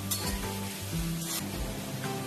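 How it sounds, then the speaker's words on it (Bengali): Ground spices, including cumin powder, sizzle in a pan just after a little water is added for a loitta shutki and eggplant dish, a loud close crackling hiss with brief bursts and a faint clink. "এই গুঁড়ো মশলাগুলো দিলাম বলেই সামান্য একটু জল দিলাম, যাতে মশলাটা পুড়ে না যায়।"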